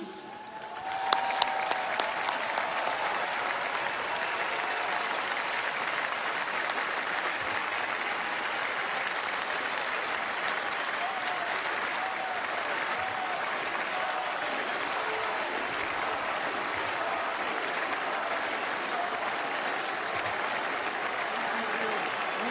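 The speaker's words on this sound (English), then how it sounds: "everybody stand up and give Bobby a standing ovation" A large ballpark crowd at a White Sox World Series reunion ceremony gives a standing ovation, with dense, sustained applause and cheering that holds steady for over twenty seconds after a few sharp claps at the start.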